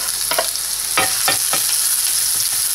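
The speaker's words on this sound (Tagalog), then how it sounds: "So, magisa na tayo ng garlic" Garlic sautéing in hot oil in a kawali, a loud continuous sizzle broken by several scraping stirs of the spatula, close up with no talking.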